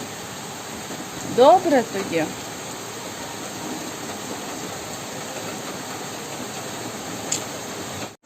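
Steady soft hiss of rain falling throughout, with a brief burst of speech near the start and a faint click later.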